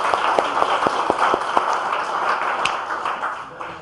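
A church congregation at a revival service claps together, opening with sharp, rhythmic unison beats that loosen into a steady, fairly loud round of applause before tapering off.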